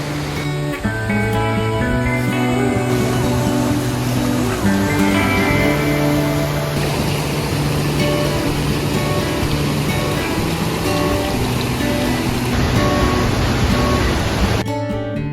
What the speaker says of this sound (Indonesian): Karena makin dekat ke curug, suara airnya tuh mulai kedengeran makin jelas.